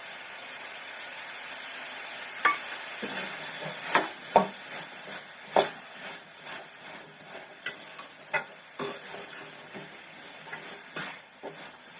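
Mint leaves stirred in a hot pan give a soft, steady sizzle under a series of sharp scraping clicks from the spoon striking the pan, spaced irregularly, close and fairly quiet.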